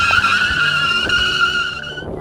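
An electric scooter's tire squeals in a burnout, a loud, continuous high-pitched skid that holds steady for about two seconds under a low rumble, then cuts off.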